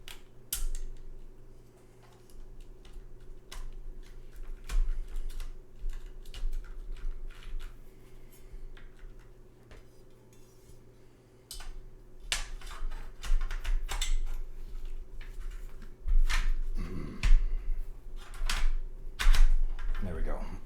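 Keys clack irregularly on a Maker Keyboards Dark Magnum Ergo-I mechanical keyboard, sparse taps growing into denser bursts of typing over a steady low hum, with a voice speaking at points.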